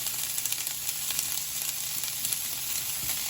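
Asparagus sautéing in a pan, a steady close sizzle and frying crackle with occasional soft scrapes as the spears are stirred and moved around, no voices.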